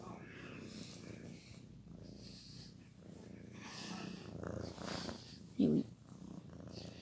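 A cat purring close by while pressed against a tablet, a soft continuous rumbling purr with a brief snort, and someone talking quietly over it.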